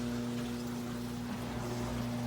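Water pours and churns steadily through the filtration sump of a 350-gallon shark aquarium, a dense, continuous rushing wash with a low pump hum beneath it and no voices.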